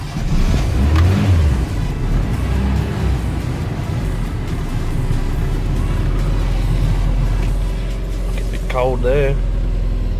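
Toyota Corona car engine idling steadily with a low, continuous rumble close by, while someone talks briefly over it near the start and again near the end.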